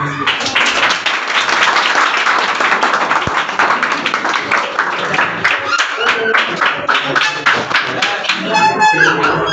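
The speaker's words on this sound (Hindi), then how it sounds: "बहुत अच्छी तालियां बजी, इसका मतलब आप लोग हैप्पी हैं ये सब सुन के।" Workshop audience in Bhopal applauds throughout, a loud continuous crackle of many hands clapping, with some voices mixed in toward the end.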